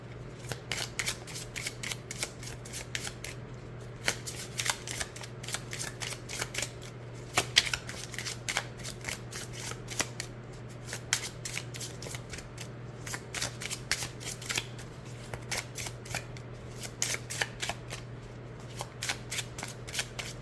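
Barbara Walker tarot cards shuffled by hand in a steady run of crisp riffling and flicking card sounds, close and fairly quiet, over a low steady hum with no talking.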